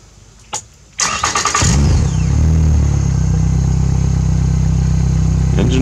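A Yamaha F70 outboard engine on a pontoon boat starts up: a brief cranking whir, then the motor catches and settles into a loud, steady close idle hum.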